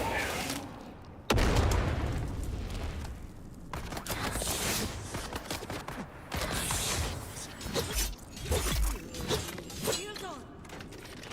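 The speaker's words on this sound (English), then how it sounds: "Gonna wait for them to, you know, stop shooting at me." Enemy gunfire in the survival game Dune Awakening during a dungeon fight, with a loud impact, crackling bursts and creaking mechanical noises mixed with game effects, while a player talks over it.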